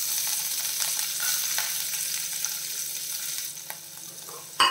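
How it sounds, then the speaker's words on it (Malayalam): Chopped ginger and garlic sizzle in a hot pan in a Kerala-style ladies finger (okra) dish, a steady close hiss that stays even throughout and ends with a sharp knock. "ഇതിൽ നമ്മൾ കട്ട് ചെയ്ത് വെച്ചിരിക്കുന്ന ഇഞ്ചി വെളുത്തുള്ളിയൊക്കെ ചേർത്ത് കൊടുക്കാം."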